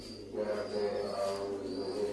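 Sialkoti black-faced pigeons give soft, close, continuous cooing with a faint steady hum underneath.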